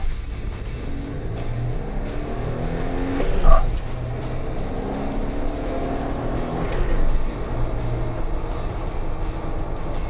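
Jeep Wrangler JK (2007–2017) with a throttle response controller pulling away in sport mode, a steady engine and road drone with a brief louder surge of revving midway, heard from inside without talk.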